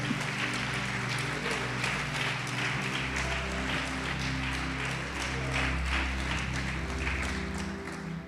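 A church congregation applauds steadily and densely for several seconds, with a low hum of music or organ sustained beneath the clapping.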